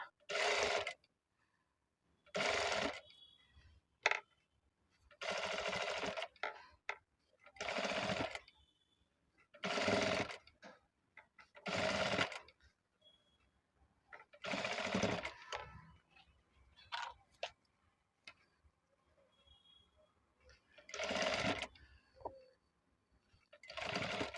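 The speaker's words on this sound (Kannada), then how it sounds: "ನೀಟಾಗಿ ಈ ರೀತಿ ಸ್ಟಿಚ್ ಮಾಡ್ಕೊಳ್ಳಿ" Sewing machine stitching ready-made piping onto a finished blouse, running in repeated short bursts of a few seconds each with brief pauses between, close and fairly loud, with no talk over it.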